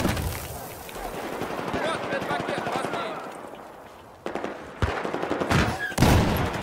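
M249 light machine gun in Battlefield 4 on the Zavod 311 map, firing rapid sustained bursts with sharp rattling reports, then a few separate loud cracks, alongside faint game sounds and brief talk.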